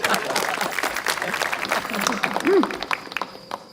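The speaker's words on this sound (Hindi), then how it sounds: "तालियां मैम के लिए।" Applause in a Bollywood drama scene, a burst of clapping for a woman teacher, heard with speech over it and a brief tonal chirp partway through.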